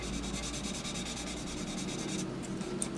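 Steady, continuous rubbing of an Infini-Model Matador premium soft sanding stick with rhythmic back-and-forth strokes, close and fairly loud, with no talking.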